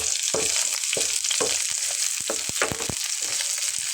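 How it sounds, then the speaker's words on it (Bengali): Spices and green chilies frying in a hot pan for ridge gourd paste, a steady close sizzle broken by repeated scrapes and stirring knocks of a spatula. "মশলাগুলো কিন্তু একটু ভাজা হয়ে আসছে।"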